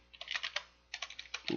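Quick bursts of keystrokes on a computer keyboard, two short runs of clicking close up, ending in a slightly heavier key press.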